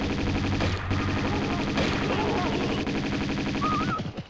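Rapid revolver gunfire from a huge cultist enemy in the Tomb Raider II Opera House level in Italy, a dense, loud, continuous barrage of overlapping shots lasting several seconds before tapering off at the end.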